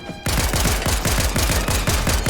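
Rapid automatic gunfire from the video game Fortnite rattles off in a dense, loud burst of evenly spaced shots after a brief quiet start, continuing without pause to the end.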